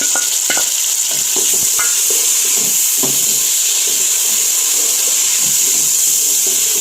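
Tomatoes tipped into a pan of browned white onions for a Punjabi aloo matar sabzi, a loud, close, continuous hissing sizzle with scattered clinks and scraping from stirring, no voices.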